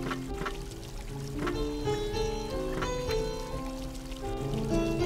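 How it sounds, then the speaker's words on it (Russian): Cold water pouring into a cup in a puzzle adventure game, a continuous splashing, trickling pour heard alone and fairly close, with a soft bubbling texture that runs for several seconds. "Холодная вода у вас в чашечке."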